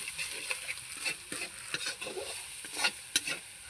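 Garlic, salt, chili powder and turmeric sauté in a pan with a soft hiss. Intermittent scraping strokes stir the spices, fairly quiet and close, with no talking.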